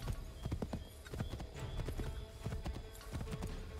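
Horse hooves clip-clopping in a steady riding rhythm in Assassin's Creed 3 Remastered, close and fairly loud, with an occasional whinny and no talking.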